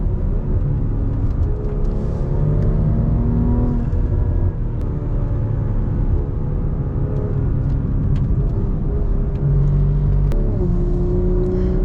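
A BMW M340i fitted with aftermarket downpipes and exhaust pulls hard, a loud, steady engine rumble that swells and changes pitch through the gears, heard from inside the car with no talking.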